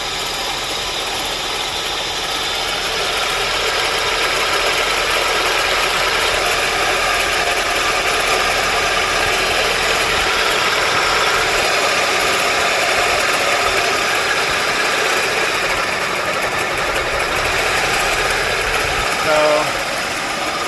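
A Honda Prelude engine idles roughly with a misfire from a dead cylinder, a steady close mechanical drone with uneven pulses throughout, loud and continuous.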